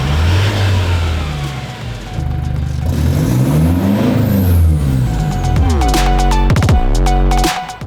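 A Toyota GDJ70 with a 4-cylinder turbo engine and a 4-inch Fats exhaust, recorded up close and loud: a deep idle rumble gives way to repeated revs that climb and fall, ending in a sharp burst and drop.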